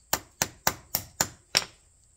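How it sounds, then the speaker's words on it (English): A hammer strikes an Autolite spark plug six times in an even rhythm, each blow a sharp, close metallic crack with a brief ring. "I'm going to smash open this Autolite plug"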